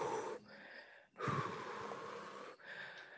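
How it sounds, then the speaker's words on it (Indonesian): Fast, heavy breathing from a startled person in a village hall at night, rough wheezy gasps forming a near, continuous rhythm broken by a couple of brief pauses, with no talking. "nafas saya mulai agak ngebut"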